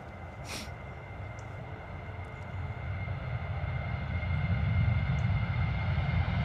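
A Ryanair airliner takes off at London Stansted Airport, its engine roar rising steadily from moderate to loud as it gathers power on the runway, heard from a distance outdoors.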